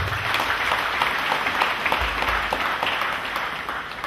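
A church congregation applauding for Jesus Christ at a prophetic service in Cameroon, a steady, dense wash of clapping that stays loud and close throughout with no break.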